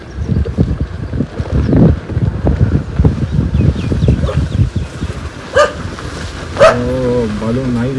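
A dog barks a few times in the middle of people chatting on a windy outing, the barks loud and close, near the end.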